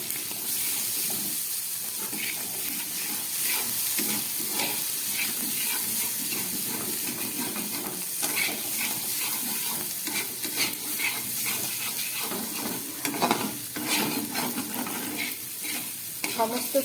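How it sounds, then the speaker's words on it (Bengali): Vegetables for palak paneer are sautéed with spices such as cumin powder, keeping up a steady close sizzle and hiss under scraping and stirring throughout, with no speech. "সমস্ত সবজিটা আমার মশলা দিয়ে কষানো হয়ে গেছে।"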